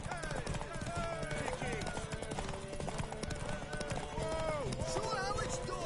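Horse hooves clip-clopping at a gallop in The Witcher III: Wild Hunt, a busy rhythmic patter mixed with neighs and game music, with voices talking over it.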